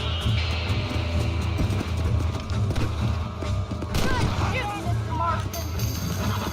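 A horse gallops with thumping hoofbeats in Red Dead Redemption, with a neigh partway through, while game dialogue and a voice talk over it.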